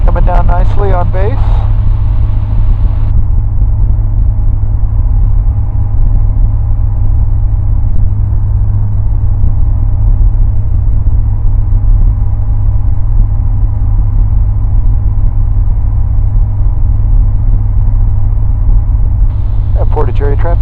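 Experimental 601 light aircraft on landing approach to runway 27, its engine droning steadily and loudly throughout with a constant low rumble, while a pilot's voice speaks briefly at the start and end.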